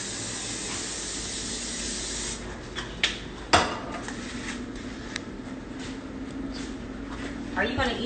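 Cooking spray misted onto a pan in a home kitchen, a few short hissing bursts amid quiet rustling, close by and moderately faint.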